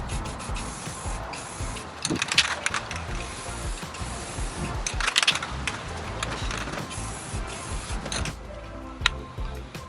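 Trim coat paint is sprayed from an aerosol can under a 2022 Ford Transit Crew Van, giving hissy spurts mixed with mechanical clicks and rubbing, with two louder bursts and no talking.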